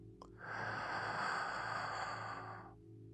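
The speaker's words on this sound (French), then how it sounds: "Alors, inspire profondément" One slow, deep breath in, drawn through the nose and heard close and soft, swelling for a couple of seconds before fading, with a faint steady hum underneath.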